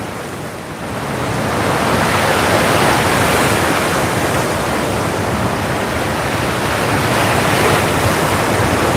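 Ocean waves break at Waikiki, Hawaii, as a loud, steady roar of surf and spray with slight swells, heavy and close, filling the scene with no voices.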